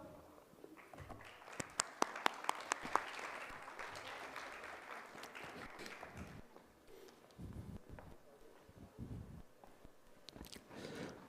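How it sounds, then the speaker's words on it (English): An audience at a TEDx talk at Sharda University applauds, a scattered patter of claps with a few sharp close hand strikes, quiet overall and tapering into low room murmur. "So please give him a huge round of applause."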